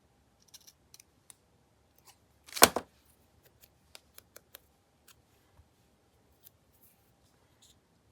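Scissors make one distinct snipping cut through paper, with a few faint clicks and rustles of handling before and after in a quiet room.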